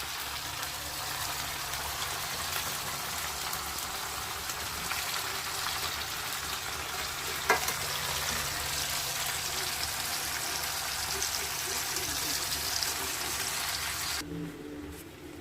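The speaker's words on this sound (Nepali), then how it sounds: "फ्राई गर्न लागेको छु" Carrots fry in a pan with a continuous, dense, rain-like sizzle at an even level, ending in a short clatter.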